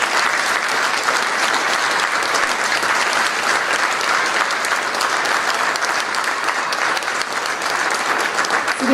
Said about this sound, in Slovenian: Mislim, da se zaslužijo res en velik aplavz za nocojšnji večer